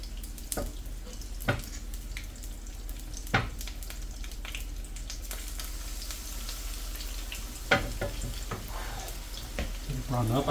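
Fish pieces for tacos fry in oil with a steady low sizzle, punctuated by several sharp clicks and knocks of utensils against the pan, close up, with no clear talk.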